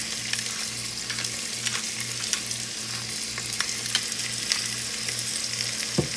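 Seasoned chicken, salted and peppered, frying in a pot for a Tuscan chicken dish, a steady close sizzle with scattered pops and crackles running throughout under a low background hum, with no talking.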